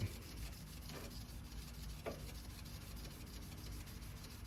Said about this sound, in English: Again, I'll do a horizontal sanding here